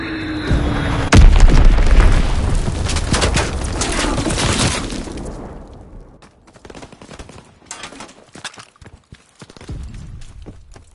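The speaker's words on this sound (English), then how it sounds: "Enemy bomb incoming. Get to cover." A bomb explodes in a WW2 video game, a sudden loud boom that rolls into a long crackling roar, then fades to scattered debris pops and distant thuds.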